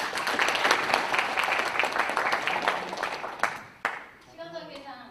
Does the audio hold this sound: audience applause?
yes